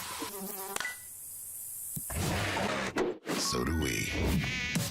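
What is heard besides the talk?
mosquito buzzing in a Terminix ad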